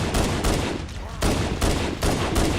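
Rapid gunfire in Halo Anniversary fills the moment with loud, close, repeated shots in several bursts separated by brief gaps, used to shoot at grunts and an elite.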